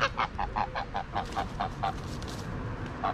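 A flock of geese on the River Thames honks in a steady run of repeated calls, moderately close, over a low outdoor background rumble, with no one speaking.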